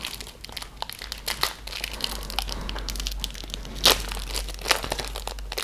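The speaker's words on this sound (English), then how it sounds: "The plastic twists and bends with my berserker strength." Plastic packaging around Kickstarter stretch-goal promo cards is twisted and bent up close, giving bursts of crinkling, crackling and sharp snaps with no voices.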